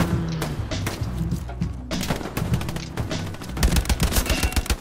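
M1 Garand rifle fire in the World War II shooter Hell Let Loose, sharp close rifle cracks in quick succession with distant battlefield gunfire and a rapid automatic burst toward the end.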